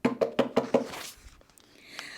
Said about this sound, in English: we heard someone knocking at the door